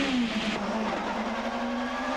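An Audi touring car roars at a 1995 Super Touring race start at Winton, captured onboard as one loud, sustained engine drone whose pitch dips slightly, then holds steady.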